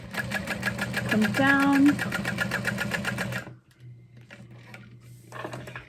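A sewing machine backstitches a tote bag with a rapid, loud mechanical chatter that stops abruptly partway through, followed by quieter handling noise and a short burst of stitching; a voice speaks briefly.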